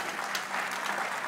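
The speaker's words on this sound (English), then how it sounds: "Give him a round of applause for helping out." Church congregation applauding a volunteer during a sermon, a steady full wash of clapping from many hands, close and sustained for the whole short stretch.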